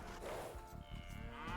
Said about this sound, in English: Where are my cows?